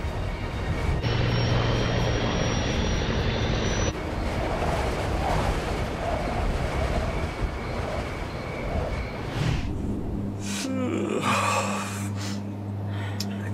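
Landing gear of a Colgan Air airliner extending on approach, a heavy rumbling mechanical roar inside the aircraft that steadies, then gives way to a deep hum with a whine near the end.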